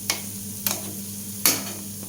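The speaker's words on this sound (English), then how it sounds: "So I am putting koftas in oil for deep fry" Kofta balls made from bottle gourd deep frying in hot oil, giving a steady soft sizzle with a few sharper crackles and taps spaced through the short stretch, with no talking.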